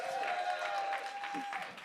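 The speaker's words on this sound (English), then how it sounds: "Would you keep that applause going for all of the artists that you've seen on the stage?" A live-show audience at a venue applauds the stage performers, a short, steady patter of clapping with a tonal hum running through it.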